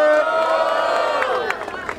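A rap battle crowd at a hip hop tour stage answers the host's call for the second round with a surging roar of shouting and cheering that fades into scattered noise over about two seconds.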